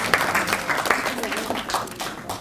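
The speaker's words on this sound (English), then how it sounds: "So you can clap." Audience applause at the 2019 Annual Eric Molobi Memorial Lecture, a steady dense patter of clapping from a lecture hall crowd, close and continuous throughout with a faint voice under it.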